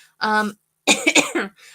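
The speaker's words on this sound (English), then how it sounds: "I apologize if I'm coughing throughout this." A couple of short, harsh coughs up close, with a brief throat-clearing sound between them.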